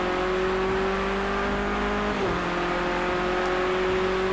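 Race car in Project CARS 2 on a wet track, a steady close engine drone that dips in pitch as the car brakes hard, then climbs again as it accelerates out, continuous with no voices.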